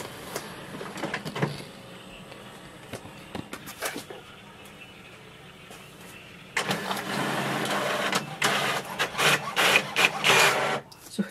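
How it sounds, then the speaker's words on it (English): An HP OfficeJet Pro 9010 printer making a one-sided copy, with whirring and clicking mechanical feed sounds that swell into a loud continuous run of paper passing through. "here we can see the printer is really fast to do the copy"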